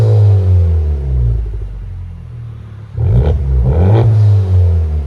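Honda Civic Type R with a six-speed and a Remark aftermarket exhaust revs hard and loud, a deep rumbling idle rising into two sharp throttle blips near the end, with no talking.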